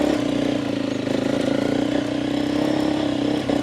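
A Suzuki DRZ400 dirt bike engine runs steadily on a trail ride at Grigor Road, Jimna, giving a loud, close, continuous throaty drone with slight pulsing.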